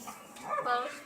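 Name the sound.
hyperactive dog barking and whimpering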